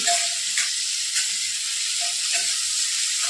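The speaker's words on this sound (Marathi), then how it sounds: "भेंडी फ्राय करत असताना आपल्याला गॅसची फ्लेम मोठी ठेवायची" Okra and potato pieces with turmeric fry over a high gas flame, making a loud, continuous hissing sizzle with a few faint stirring knocks and no voices.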